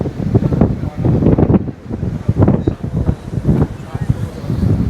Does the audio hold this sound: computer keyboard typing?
no